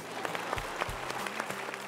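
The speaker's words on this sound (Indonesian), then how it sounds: "Khusus untuk Pak Awi kita berikan tepuk tangan" A studio audience claps for Pak Awi in a short, lively burst of applause, with a few sharper individual claps standing out near the front, alongside a couple of low thumps.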